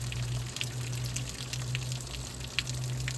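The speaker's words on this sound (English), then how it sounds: "And all I'm doing is I'm just spraying it into the evaporator" Diluted coil cleaner mixed with water sprays into the evaporator of a GE Superthrust air conditioner, a steady hissing wash over a low constant hum from the unit, with small spatters throughout and no talking.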